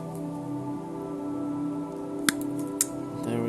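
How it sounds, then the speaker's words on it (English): Wire tips on an LED strip being trimmed with cutters, two brief sharp snips close by against a quiet humming background. "always just nicely trimming off these tips of the wires"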